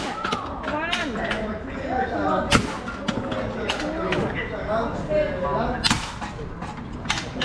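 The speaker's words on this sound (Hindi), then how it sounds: "बियर के कैन पे रबड़ वाली गनों से मार रहे" Toy rubber guns firing at beer cans at a floating market, several sharp cracks and thumps scattered irregularly under continuous close conversation.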